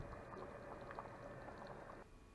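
Zucchini and sardine salad for winter preserving, simmering in a pot with vinegar added, gives a steady, close bubbling and gentle boiling hiss that continues evenly throughout and then drops slightly near the end.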